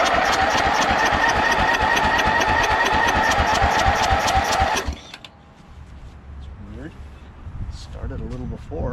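A 12 HP Briggs & Stratton flathead engine on a Craftsman LT1000 lawn tractor runs loud and steady for about five seconds, then cuts off abruptly, leaving quiet background with faint sounds and talk.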